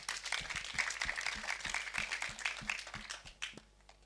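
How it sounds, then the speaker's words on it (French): Audience applause at a trade fair for trades and associations, a steady patter of many hands clapping at moderate volume that tapers off toward the end. "On l'encourage avec vos applaudissements."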